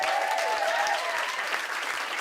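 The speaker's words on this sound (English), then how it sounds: "give yourself a round of applause" Brief burst of crowd applause from a comedy show audience, dense clapping at steady volume from start to finish with no speech over it.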